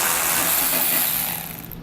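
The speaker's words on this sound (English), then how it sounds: "So I'm going to be using a 10mm socket to remove" A power tool with a 10mm socket removes bolts from the front fascia of a 2017 Jeep Cherokee, giving a loud, close, steady whir that winds down at the end, with no talking.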